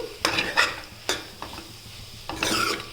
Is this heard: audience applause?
no